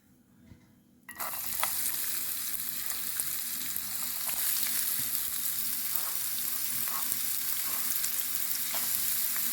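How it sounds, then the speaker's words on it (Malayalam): Chopped onions hit hot oil with a sudden loud sizzle that settles into a steady, bright crackle of frying, with faint stirring taps here and there; no one speaks. "ഇനി അരിഞ്ഞു വെച്ചിരുന്ന സവാള ഇതിലൊത്തിടാം."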